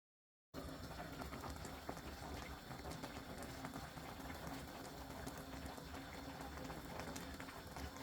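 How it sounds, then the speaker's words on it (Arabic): Cabbage water boils in a pot on a gas stove, a faint, steady bubbling and hiss that starts after a brief silence and continues evenly. "بحط على الغاز على نار عالية نوعا ما لحتى تغلي المي"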